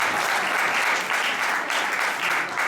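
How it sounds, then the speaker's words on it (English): A burst of crowd applause at a Sunday class at a temple, steady clapping from many hands filling the short moment. "Give her a big round of applause."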